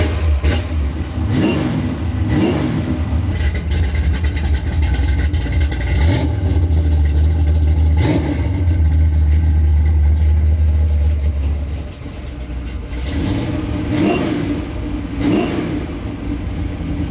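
A 1973 Ford Mustang Mach 1 with a 557 engine idles with a deep rumble at a hot rod weekend, broken by several sharp revs. It drops to a lower idle before two more blips at the end.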